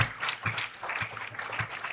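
Audience at a sports strength and conditioning symposium applauds, a short, moderately quiet patter of clapping with uneven bursts over about two seconds.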